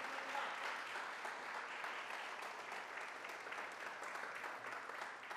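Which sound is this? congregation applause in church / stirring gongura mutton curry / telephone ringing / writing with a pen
congregation applause in church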